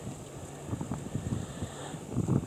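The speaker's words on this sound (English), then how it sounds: "A little breezy here today." Wind blowing outdoors in a hemlock woodland, a steady low rushing and buffeting against the microphone that swells in uneven gusts and grows strongest near the end, with no voice.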